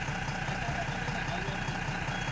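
A loaded truck idles at a sugarcane loading spot by a dam. Its engine gives a steady, low rumbling drone with no change in pace, and no voices are heard.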